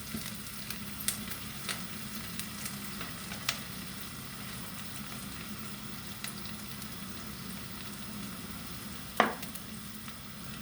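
Fresh vegetables for ratatouille fry in a pan with thyme, bay leaf, salt, pepper and herbes de Provence, giving a steady low sizzle throughout with a few faint clicks and one brief sharp scrape near the end.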